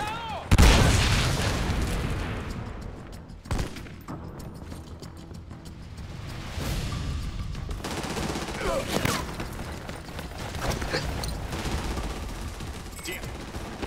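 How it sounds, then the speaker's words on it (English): A heavy grenade blast and sustained automatic gunfire from the shooter game Army of Two: The Devil's Cartel, loud and dense throughout, with sharp booming impacts and rattling bursts over combat voices. "Grenade out!"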